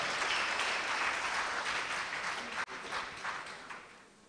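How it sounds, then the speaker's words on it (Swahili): An audience applauds at a South Africa–Tanzania cultural event, producing dense, sustained clapping from a large crowd that holds steady, with one brief dip midway before it resumes. "Piga makofi mengi kwake tafadhali."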